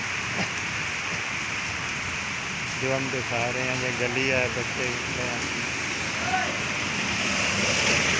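Rain pours steadily onto a street lined with shops, a dense continuous hiss that holds evenly throughout while someone talks over it for several seconds.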